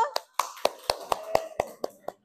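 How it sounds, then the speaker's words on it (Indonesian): A classroom group claps hands during a teacher training lesson: about nine sharp, separate claps in a loose rhythm, close and fairly loud, with a faint voice in the gaps. "silakan kelompok 3, tepuk tangan dulu"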